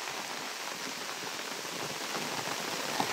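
Heavy rain pours down in a village, a dense, even hiss of drops on surfaces that fills the scene and builds slightly toward the end, with no voices.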